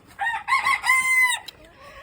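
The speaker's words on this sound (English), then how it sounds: "And I do have 4 roosters that will bunk in the clucker." A rooster from a backyard flock crows loudly and close by, one full cock-a-doodle-doo call in rising segments that ends abruptly, followed by quiet background.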